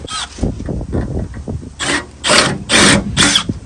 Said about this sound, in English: I'm going to drill this hole out just a little bit